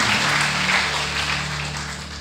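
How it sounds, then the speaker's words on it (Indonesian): Church congregation applauding during a worship service, a broad wash of clapping from many people over a low steady hum, fairly loud and sustained. "Berikan tepuk tangan buat Tuhan."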